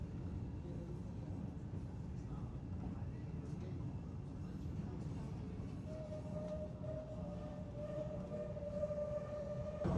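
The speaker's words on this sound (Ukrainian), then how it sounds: "Перший раз в Чикагському метро." Constant low rumble and rattle of a Chicago subway car in motion, with a rising high whine near the end and muffled voices in the background.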